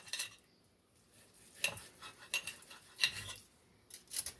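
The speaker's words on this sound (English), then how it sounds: "This roast beef is tender. You see, it cuts pretty good." Slow-cooked beef pot roast being cut with knife and fork: a few soft scraping clinks of cutlery on a plate, spaced apart and close, with quiet pauses between.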